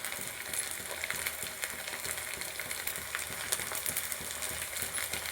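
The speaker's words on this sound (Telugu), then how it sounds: "ఇప్పుడు ఈ విధంగా ఫ్రై చేసుకోవాలి." Masala spices for a goat blood fry sizzle and crackle in hot oil, a steady close frying hiss dotted with sharp pops and occasional scrapes of a stirring spoon against the pan.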